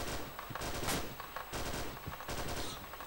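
Rapid automatic gunfire rattles through a military shooter game during a mission sweep, dense bursts of shots close and loud with brief pauses between volleys, no talk over it.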